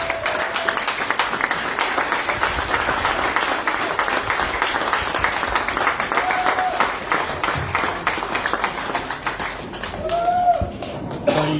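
Audience at an annual general meeting applauding a music duo, steady massed clapping that continues evenly and swells slightly near the end, with faint voices underneath.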